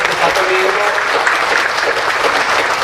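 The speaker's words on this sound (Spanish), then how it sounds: "Queremos dar un aplauso a Raúl" Steady applause from a church congregation, a dense continuous wash of clapping hands filling the whole moment at close range with no pauses.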